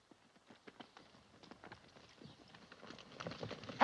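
Horses' hooves from a scene in the 1960 western film The Plunderers, faint scattered clip-clop beats that grow busier and louder as the horses approach, ending in a sudden loud burst.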